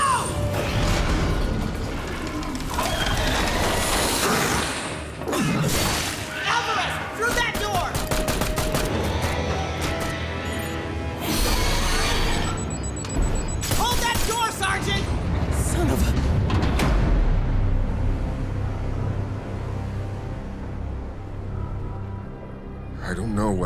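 Sustained gunfire and explosions fill an Xbox video game battle, with loud bursts of rapid automatic fire, booms and crashing impacts continuing nearly without pause, while voices shout over the combat.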